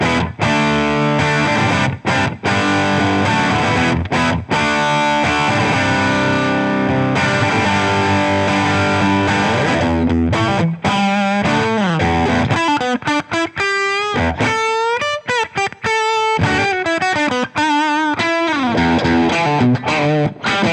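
An electric guitar played through a Boss OD-3 overdrive pedal, loud and close, starting with ringing distorted chords and moving into quicker picked riffs and bends, with no talking.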